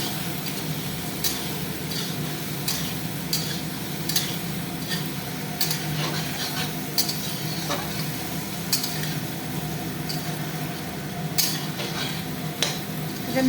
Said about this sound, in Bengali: এটা মিক্স করা হচ্ছে।